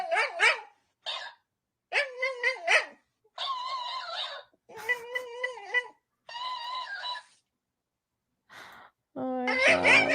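Puppies yip and bark in short, high-pitched bursts separated by brief pauses, with whimpering, crying-like tones mixed in, fairly close and clear with no talk over them.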